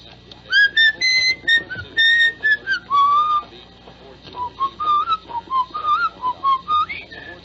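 A man whistles a lively tune up close, clear melodic phrases with short pauses between notes, no talking.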